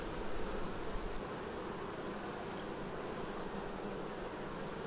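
Honey bees swarm over a hive frame being filled with nectar, giving a continuous soft buzzing hum with a few individual bees whining past close by.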